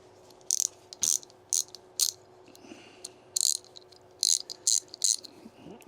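Small ratchet from a cheap Temu socket set clicked by hand in several quick bursts of sharp, bright ticking, close up, separated by short pauses.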